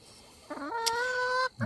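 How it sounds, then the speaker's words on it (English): An old black hen with a hurt foot gives a single drawn-out clucking call, close and clear, lasting about a second with a short sharp note at the end. "We believe that this black chicken here, this old gal, she has a hurt foot"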